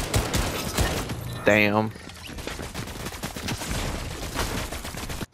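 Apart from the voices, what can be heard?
gunfire in the video game Fortnite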